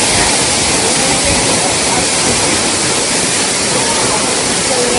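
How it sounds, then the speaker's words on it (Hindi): Small waterfall in Bastar with thin streams and heavy spray, a steady loud broadband roar of falling water up close, continuous and unbroken throughout. "इससे अच्छा वाटरफॉल और क्या ही हो सकता है। पानी की धाराएं कम है लेकिन जो छींटे आ रहे हैं ना तगड़े आ रहे हैं"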